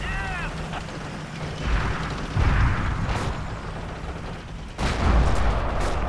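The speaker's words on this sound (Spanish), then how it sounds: "Pero alguien está disparando" Forgotten Hope 2, a Battlefield 2 mod, with gunfire and heavy booming blasts echoing across a wartime battlefield, loud rumbling bursts spaced over continuous noise.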